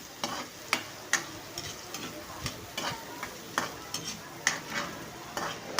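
Garlic and onion sizzle in a pan while a utensil stirs and scrapes, with soft repeated knocks against the pan over a steady, fairly quiet frying hiss.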